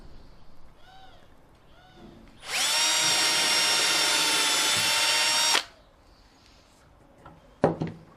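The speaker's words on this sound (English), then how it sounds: "drill a 2 mm hole as a touch hole" A power drill whirs loudly and steadily for about three seconds, boring a 2 mm touch hole in the bottom of a case, starting and stopping abruptly, with faint bird chirps and quiet clicks around it.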